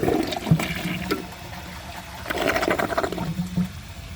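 A Mainstays high-efficiency toilet flushes with a dish towel in the bowl, giving a fairly close rush of water with gurgling surges that swell, ease off, then rise again before trickling.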